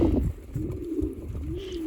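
Young pigeons coo in a dovecote, low throaty burbling calls repeating close by in a continuous murmur, with no talk.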